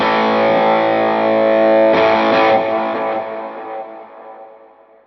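Distorted electric guitar through an HX Stomp sounds a sustained chord, restruck once, then its delay and reverb trails slowly fade out with no talking.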